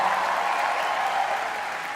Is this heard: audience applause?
yes